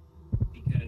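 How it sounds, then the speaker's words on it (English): In a Minecraft backrooms map, a heartbeat thumps out two quick low double beats, lub-dub then lub-dub, close and muffled over a faint hum. "I just hear my heartbeat"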